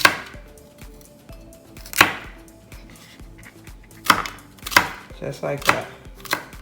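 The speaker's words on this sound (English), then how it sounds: "Now we're just gonna slice them into nice bite-sized pieces." A kitchen knife chops rinsed green peppers into bite-sized pieces on a cutting board, giving several crisp, close knocks spaced unevenly, with a brief spoken remark between cuts.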